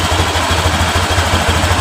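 A Honda Vario LED scooter engine idling at roughly 1400 to 1500 RPM, a steady, close, loud putter with an even low pulse throughout; the machine has a stumbling, stalling fault.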